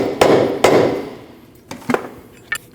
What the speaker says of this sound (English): you can hit your lower control arm here with a rubber mallet to loosen up the control arm to the ball joint